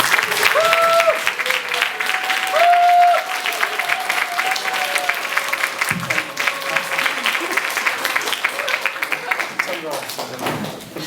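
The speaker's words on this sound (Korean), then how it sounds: "뜨거운 박수로 목사님 맞이하겠습니다" A church congregation applauds at an evening revival service in Daejeon, welcoming guest pastor Kim Sang-kwon; steady clapping fills the room throughout, with a voice speaking briefly over it near the start.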